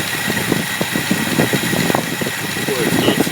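A Studebaker engine with a four-barrel carburetor idles at low speed in a garage, a loud, steady rumbling thrum with faint uneven pulses, while someone talks over it.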